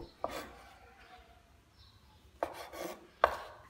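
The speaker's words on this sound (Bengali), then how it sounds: "এখন আমি পাউরুটির চারপাশে শক্ত বাদামি অংশ কেটে ফেলে দিব।" A knife cuts the hard brown crust from slices of bread for shahi tukda, giving three short scraping cuts, close and fairly quiet, with pauses between them.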